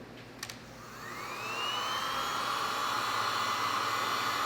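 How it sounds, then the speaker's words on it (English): A heat gun blowing over poured epoxy resin on a black walnut live edge table. A couple of faint clicks come first, then a steady airy whoosh that swells over about a second and holds, close and loud. "So just give it a quick quick pass with the heat to heat up the air and encourage it to release just a little bit more."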